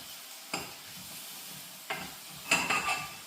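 Pork and onions frying in a pan, with a low, steady sizzle and a few sharp clinks of a utensil stirring against the metal. There is no talking.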